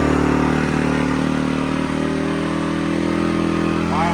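A four-stroke dirt bike engine running at a high idle close by, a loud, steady mechanical drone with a slight clatter that holds throughout without talking.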